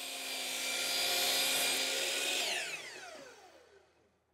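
A power miter saw cuts PVC backboard to length: a loud whining motor with a biting cut, then the blade spins down in a falling pitch and fades to silence.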